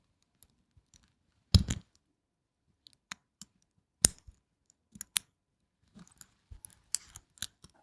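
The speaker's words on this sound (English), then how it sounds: "let's now open and close the clasp as well" A metal clasp on a luxury wristwatch opens and closes in sharp, close clicks. The clicks come singly and in small clusters, separated by quiet pauses, with no talking.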